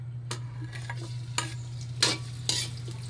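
Ginger is sautéed for a ginataan dish. Oil sizzles steadily under several sharp scraping stirs of a utensil in the pan, with a constant low hum behind them and no talking.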